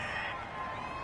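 Home crowd at an NFL football game reacting to a penalty flag call on third down, a dense, steady roar of many voices filling the stadium for a brief moment.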